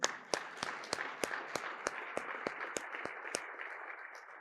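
Audience at a hall of fame awards ceremony clapping in a steady unison rhythm, about three claps per second, sharp and fairly loud with a light crowd murmur beneath, slowing slightly toward the end.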